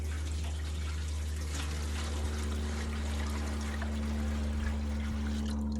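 Maple sap pours steadily into a boiling pan outdoors in a continuous wash of splashing, with a low steady hum running underneath throughout.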